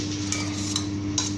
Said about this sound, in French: Alors on mélange tout ça à la betterave.